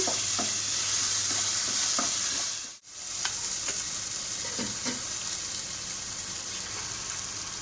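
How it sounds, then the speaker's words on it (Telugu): Ginger garlic paste sizzles and fries in hot oil in a pan for egg fried rice, a steady crackling hiss with occasional stirring scrapes and a brief dip in the middle. "1 స్పూను అల్లం వెల్లుల్లి పేస్ట్ వేసుకొని ఎగ్ ఫ్రై చేసుకోండి"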